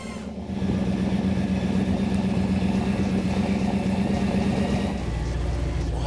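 A 900-horsepower Hudson Terraplane street rod's engine runs steadily at a low, rumbling idle, close and loud, with a slight shift in tone near the end and no talk over it.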